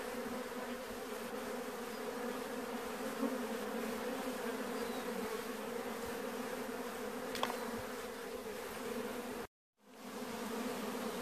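Honeybees swarm around a natural hive being harvested, a dense, steady, close buzzing that continues without pause before a brief cut to silence near the end.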